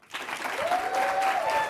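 Applause from a live audience at the STAT Summit, a steady wash of clapping that stays fairly loud throughout, with a faint tone or voice rising briefly in the middle.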